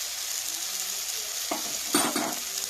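Ginger, green chili and turmeric fry in a pan with a constant bright sizzle, joined near the end by a few scraping stirs of a spatula against the metal, close and fairly quiet.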